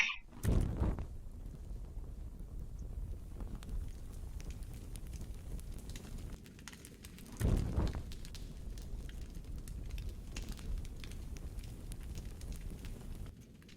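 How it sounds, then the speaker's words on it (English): A fire crackles steadily with soft pops and a low rushing hiss, two louder flares standing out near the start and midway, gentle and continuous with no voices. "Let the soothing fire crackling ease your headaches, discomfort."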